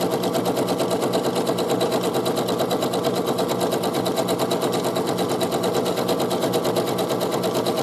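A sewing machine stitches a zigzag inseam, a rapid, even mechanical chatter running continuously and up close for the whole stretch, with no talk over it.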